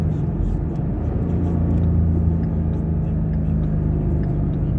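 A Ford Mustang GT with a manual gearbox runs at about half throttle, a steady, loud, low engine drone heard from inside the car.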